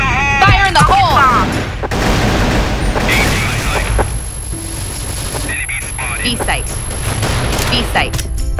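A grenade blast in the CrossFire shooter game sits amid heavy gunfire, booms and bursts of automatic fire, with game voice lines over the dense, loud combat mix.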